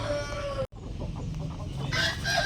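A rooster crows loudly nearby, a brief break, then more clucking and crowing from fowl in the background.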